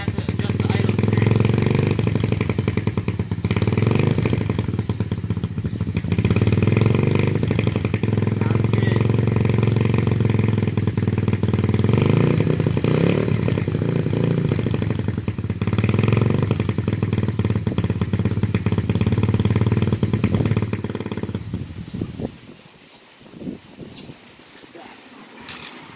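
An Apollo 125cc DB007 dirt bike engine idles with a steady, rough, chugging rumble close by for about twenty seconds, then cuts out, leaving near silence.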